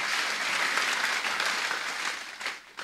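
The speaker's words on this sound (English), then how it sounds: "Put your hands together for Jesus Christ." A church congregation claps together at a healing service, dense steady applause that tapers slightly near the end.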